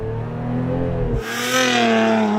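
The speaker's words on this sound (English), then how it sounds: "So I'm going to launch it now." Lotus Emira sports car launching, its engine droning loudly, then a sharp shift into a brighter, harder-revving roar, close and with no talk.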